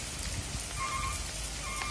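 Heavy rain pours down steadily, a dense, constant hiss of drops hitting surfaces close by, with no voices over it.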